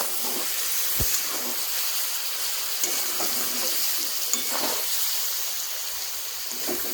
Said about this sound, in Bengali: আবারও নাড়িয়ে চাড়িয়ে খুব ভালোভাবে মিশিয়ে নেব।